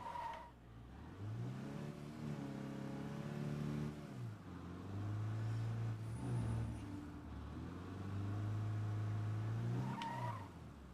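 A video game car engine revs up and down through several long pulls, tyres squealing as it slides, loud and continuous with no talking.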